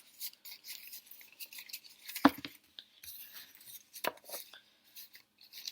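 Number cards being mixed up inside a container give quiet scattered clicks and rustles, with a couple of sharper knocks, and no one speaking.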